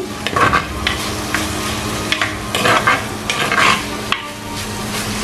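Green chillies and curry leaves sauté in hot oil for Sri Lankan jackfruit cutlets, a loud close sizzle broken by repeated scraping stirs of a spoon against the pan.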